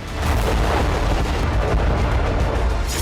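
Artillery shelling from war footage of fighting near Zaporizhzhia, a dense continuous rumble of heavy booms and blasts at high level throughout.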